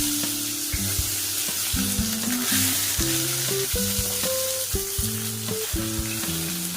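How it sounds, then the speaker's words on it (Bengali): Taro and potato frying in oil, giving a steady, close sizzle throughout, under a melodic background tune with distinct notes. "এই গাঁটি কচু আর আলু সরাসরি দিয়ে দেবো তেলের মধ্যে"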